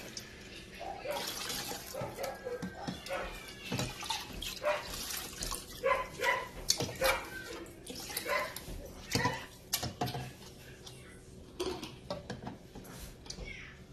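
A six-week-old puppy is bathed, with water splashing and running in irregular bursts up close, along with faint whimpers. Soft voices talk in the background.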